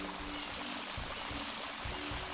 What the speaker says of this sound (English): I'm assuming you fill this water pot thingy with water